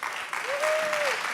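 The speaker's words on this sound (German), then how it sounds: "Herzlichen Applaus für dich" An audience at a church event applauds as David Picardi is welcomed onto the stage, with brief, steady clapping and a faint whistle-like tone rising and falling in the middle.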